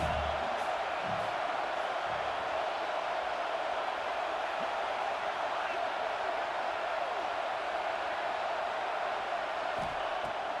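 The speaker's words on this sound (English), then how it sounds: "This crowd trying to make life miserable for this offense." A football stadium crowd roars as a steady, distant wash of noise that lasts throughout, under faint commentary.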